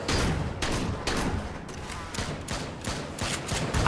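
Rapid bursts of video game gunfire aimed at rocket-launcher enemies, loud repeated shots in quick clusters with brief gaps, and a faint voice in the background.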